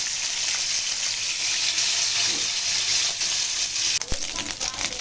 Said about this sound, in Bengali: সসেজগুলো হালকা ভেজে তারপরে ভুনা করে নেব পেঁয়াজ দিয়ে টমেটো দিয়ে